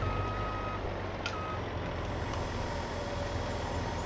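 A truck in Farming Simulator 22 reverses, with steady reversing beeps repeating over a constant low engine rumble, fairly close and with no talk.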